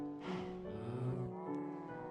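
Cows mooing in Minecraft, a low drawn-out bovine call from about a quarter second in, followed by a softer second moo, over steady game background tones.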